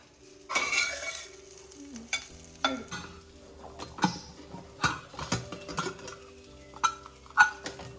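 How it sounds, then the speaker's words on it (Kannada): Okra frying in a pan over a low flame, with a soft sizzle under repeated stirring and scraping strokes and a few clinks of a utensil against the pan, close by and with no talking. "ಬೆಂಡೆಕಾಯಿನ ಸಿಮ್ಮಲ್ಲಿ ಇಟ್ಕೊಂಡು ಫ್ರೈ ಮಾಡ್ಕೊಳ್ಬೇಕು."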